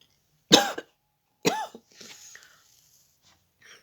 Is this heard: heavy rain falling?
no